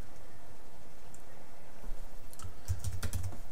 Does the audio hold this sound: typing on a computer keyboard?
yes